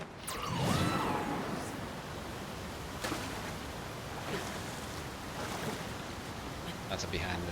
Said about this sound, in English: But yeah, it's waterfall.